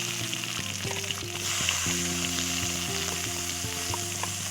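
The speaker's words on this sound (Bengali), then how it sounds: "দেখো এবারে পেঁয়াজ কুচিগুলো দিয়ে দেবো।" Chopped onions hit hot oil seasoned with black cumin in a kadai over a wood-fired stove while cooking a pangas fish curry; a strong, continuous sizzle with a low steady hum beneath, close and without speech.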